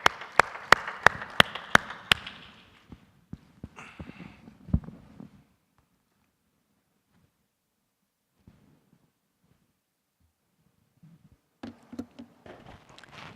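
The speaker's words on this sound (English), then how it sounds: "Round of applause, Ms. Sara." An audience at a panel discussion applauds a presenter being welcomed, with a brief burst of sharp, distinct claps that thins out into scattered clapping, then quiet, before another short round of claps near the end.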